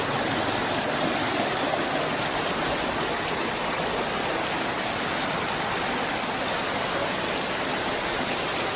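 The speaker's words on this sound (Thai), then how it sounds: "น้ำไหลเยอะเลยนะครับ" Heavy floodwater pours through the Tor Rung intersection in Mueang district, Nan, during Storm Kajiki. It makes a loud, constant, rushing roar of flowing water with no breaks.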